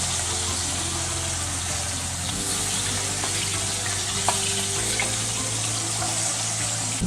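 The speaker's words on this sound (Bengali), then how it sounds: "মাছটা একটু হালকা করে ভেজে নিচ্ছি, ইলিশ মাছ বেশি ভাজার দরকার নেই।" Hilsa fish frying lightly in oil, a loud, steady, close-up sizzle with a watery hiss that holds evenly throughout, beneath a low background hum.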